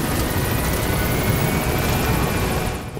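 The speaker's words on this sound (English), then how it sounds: "Support helicopter has arrived." Support helicopter in Metal Gear Solid V: a loud, steady rotor roar with dense chopping beats fills the whole stretch, easing slightly at the very end, with no voices.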